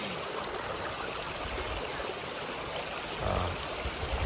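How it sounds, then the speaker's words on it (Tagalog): A stream at a nature camp flowing steadily, a broad, even rush of water with a faint splash near the end. "Ang ganda ng batis."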